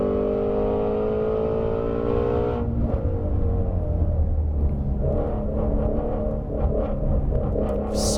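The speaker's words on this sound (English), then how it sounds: "I'm going to leave it in 4th gear and hit the rev limiter at 136." A 2019 Ford Mustang Shelby GT350 held in 4th gear on a race track, its engine screaming at high revs up to the rev limiter, a loud sustained wail that drops to a rough rumble partway through.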